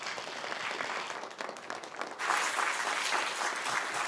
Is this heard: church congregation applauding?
yes